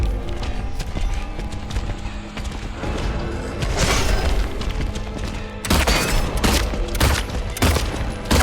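Gunfire in the survival horror game Silent Hill 2, loud sharp shots cutting through a dense, rumbling game soundtrack, heavy bursts near the middle and end.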